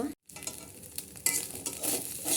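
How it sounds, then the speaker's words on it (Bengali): Fish frying in a pan for fish bharta, a steady sizzle with stirring scrapes, briefly cut off near the start, then swelling louder toward the end; no voices. "এই যে মাছটা ভাইজা নিতেছি"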